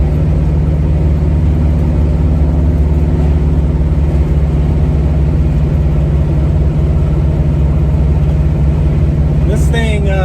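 Big block V8 in a 1970 Chevy Nova running loud and close, a steady heavy rumble held throughout with a brief rising rev near the end, while a voice speaks over it.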